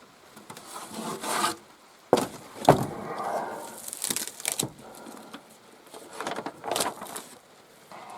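A ledger being pulled from a crowded attic filing cabinet full of old papers: close paper rustling, scraping and crinkling in several bursts, with a couple of sharp knocks and handling noises.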